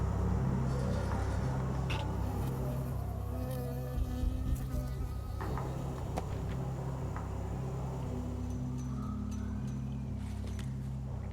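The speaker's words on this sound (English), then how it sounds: "I got stung by a bee" A bee buzzes close by in the first-person adventure game Firewatch, a droning insect hum over a repeating low background loop, with a few faint clicks.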